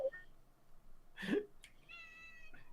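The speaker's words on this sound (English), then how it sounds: "we can definitely hear the cat in the background" A cat meows a few times in a quiet room, one clear mid-length meow followed by shorter calls, set back in the background at low volume.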